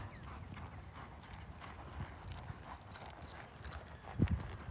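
A gray horse lopes in a barrel-riding setting, its hooves clip-clopping in a steady, fairly close rhythm with a heavier thud near the end, with no talk over it.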